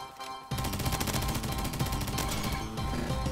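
Rapid automatic gunfire from an MP7 submachine gun in a video game, a dense continuous burst of loud shots running almost nonstop after a brief quiet start.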